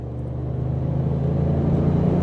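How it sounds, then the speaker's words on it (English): The twin-turbo V6 of a 2025 Ford Expedition Tremor hums as the SUV drives, a steady low engine rumble that swells slightly, heard from inside the cabin. "I love the grunt of this engine."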